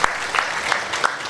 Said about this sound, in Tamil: லலிதா கல்யாண், உங்களுக்கு நல்லா கைத்தட்டலாம்.